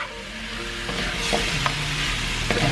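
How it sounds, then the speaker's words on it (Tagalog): Chicken curry with carrots and spices is stirred in a hot pan, a steady close sizzle with scraping utensil strokes against the metal and a few sharper clicks. "Haluhaluin para ma-incorporate lahat yung kanyang spices"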